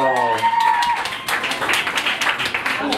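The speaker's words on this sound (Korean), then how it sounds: "박수 한번 보내주세요." A group clapping at a restaurant drinking table during a soju-beer bomb shot round, a voice talking at first before dense, close applause fills the rest with chatter mixed in.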